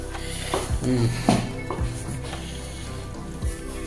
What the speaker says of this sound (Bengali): এদিকে পরোটাটা ভাজা হচ্ছে